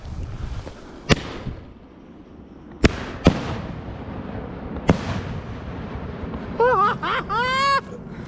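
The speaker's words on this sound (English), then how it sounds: "Hopefully you enjoyed those fireworks as much as I did setting them off." Fourth of July fireworks burst in a series of sharp, loud bangs spaced a second or two apart over an outdoor background. Near the end come several whistling, warbling shots.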